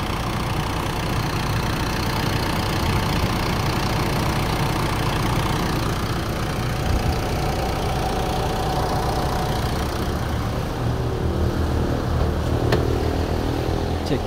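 A Mitsubishi Strada engine idles while its turbo is checked, a loud, steady mechanical rumble with a slight knock that runs throughout, softening a little toward the end.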